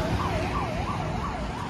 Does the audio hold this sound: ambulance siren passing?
yes